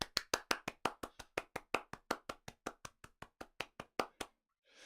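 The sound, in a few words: round of applause after a conference talk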